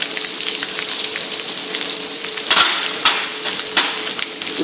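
Chopped garlic sautéing in a pan for masala dosa filling, a steady close sizzle with a few sharp clinks of a utensil against the pan.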